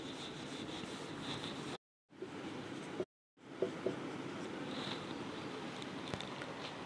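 Chalk or marker rubbing steadily across a classroom board while a chemical compound is written out, a continuous scratchy stroke broken by two short pauses, close and alone.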